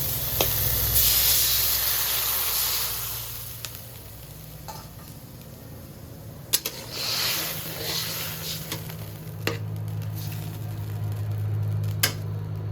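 Water poured into a hot pan of fried fish for curry gravy bursts into a loud hiss of steam, then settles into steady sizzling and bubbling with a few sharp utensil clicks.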